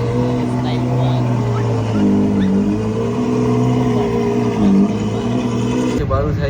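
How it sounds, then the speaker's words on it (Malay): A Ferrari Portofino luxury car revs its engine loudly and close by, a sustained droning growl that rises and falls in pitch, with speech heard over it. "Kita baru saja menyaksikan sebuah kereta jenama mewah, iaitu Ferrari Portofino."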